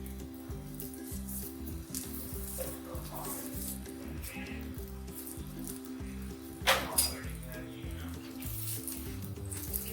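Ghee sizzles on a chicken keema paratha frying in a pan over a normal stove flame, a soft steady hiss under continuous background music, with a brief clink near the end.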